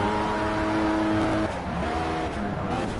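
A race car engine in the video game Project CARS drones loudly and steadily, holding a pitch before shifting down as the car slows and changes gear, with no talk over it.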